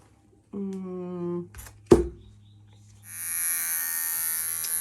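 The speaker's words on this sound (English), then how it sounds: "my blade just became dull. As cutting matted hair does dull your blade" Electric dog clippers buzz through matted dog hair while stripping a dog, a sharp clack cutting in midway before the clipper settles into a steady high whine; a brief voice-like tone sounds near the start.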